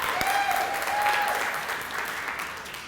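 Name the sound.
audience applause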